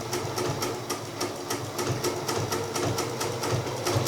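A Bernina sewing machine stitches trim using a leather roller foot on a straight stitch, with rapid, regular needle clatter at a steady moderate pace, close and fairly quiet.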